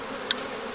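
A small cloud of honeybees hovers around the front of a strong hive, giving a faint, steady drone with one brief, sharper buzz as a bee passes near.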